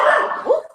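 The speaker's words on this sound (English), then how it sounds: "You must have seen something big outside because she never barks." A dog gives a single short, loud bark close by, ending quickly in a brief tail.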